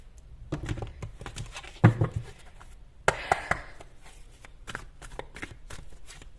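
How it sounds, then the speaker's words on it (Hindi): Energy oracle cards being shuffled by hand, a run of soft papery riffles and taps with a few sharper slaps, close and fairly quiet, no talking. "यहां से मैं एनर्जी ओरेकल कार्ड्स लेने वाली हूं आपके लिए"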